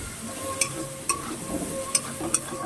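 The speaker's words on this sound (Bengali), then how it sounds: "চিংড়ি মাছটাকে এবার ভালো করে লাল লাল করে ভেজে নিতে হবে" Shrimp fry in a pan with a soft continuous sizzle while a utensil stirs them, giving a few light taps against the pan at irregular intervals.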